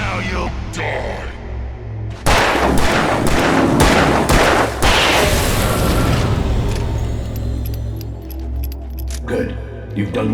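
Gunshots ring out during an Alan Wake cutscene, a rapid run of loud, sharp booming reports that fades into a lingering rumble, with a short clatter before the shots and a voice speaking alongside.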